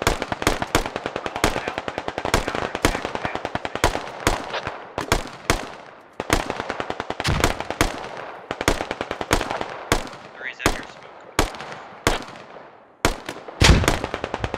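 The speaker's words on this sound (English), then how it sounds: "We just can't get these grenades past this tree." Rapid gunfire and bursts of explosions from grenades in a military shooter game, loud close cracks in dense volleys and scattered single blasts with short gaps, no talking over them.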